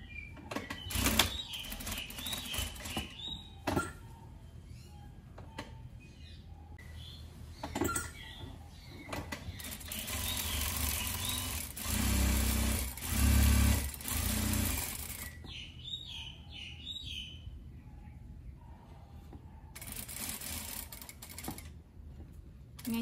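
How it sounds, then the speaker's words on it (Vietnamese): Sewing machine stitching the collar of a danton-collar faux vest, bursts of mechanical whirring in several runs separated by quiet pauses and small handling clicks, close and fairly faint. "Và bây giờ chúng ta sẽ bắt đầu may."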